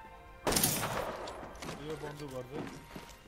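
A single loud shot from a powerful pistol in the video game Apex Legends rings out sharply, followed by someone talking over quieter game sounds.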